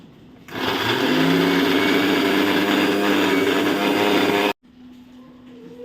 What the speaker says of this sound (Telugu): మళ్ళీ మిక్సీ పట్టుకుందాం.